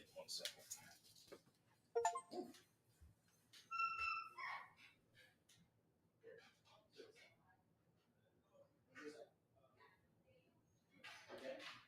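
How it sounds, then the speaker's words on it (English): A dog whimpers and cries from a backyard, with faint intermittent yips and whines. A person speaks throughout. "I put the dog in the backyard. She's still crying, but it's okay."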